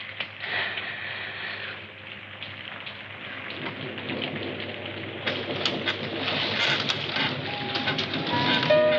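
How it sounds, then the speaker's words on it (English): Steady rain pouring down, dense hiss of drops on surfaces, growing slightly heavier toward the end, with a faint distant rumble and no talk. "Sure been raining a lot lately."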